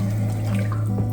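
Liquid brine is poured steadily over salmon being prepared for smoking, a continuous close splashing trickle like running tap water, heard alone without talk.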